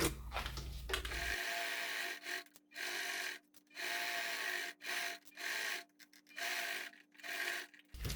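A domestic sewing machine stitches a seam on a thermal school lunch bag in short, rapid bursts separated by brief pauses, with a steady motor hum throughout and no talking.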